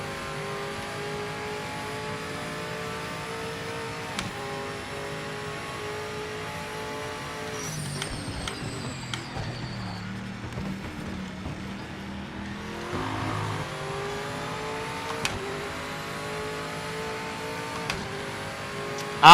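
A race car engine in the Project Motor Racing video game, droning and rising through steady revs, with a shift and a dip partway through before the tone climbs again, loud and continuous with no talk.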